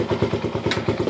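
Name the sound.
1973 Honda SL70 mini bike engine starting and idling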